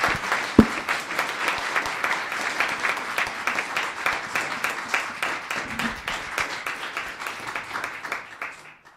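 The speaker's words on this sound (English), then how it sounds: "Round of applause for Laurel." An audience at a Los Gatos town council meeting applauds Laurel with steady, dense clapping of moderate loudness that holds throughout and fades slightly at the end.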